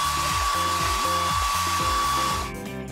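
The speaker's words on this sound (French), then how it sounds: "Mais oui, j'ai un sèche-cheveux." A mini hair dryer blows steadily and loudly in a bathroom, its whine continuous with a rhythmic pulsing low hum, then drops in level near the end.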